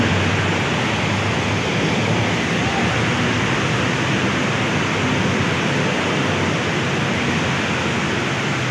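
Heavy rain drums on a vehicle from inside as a dense, steady roar of noise that holds at the same level throughout, with no talk.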